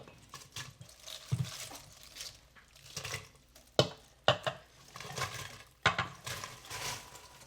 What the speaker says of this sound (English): we're gonna start adding this in very carefully to our broth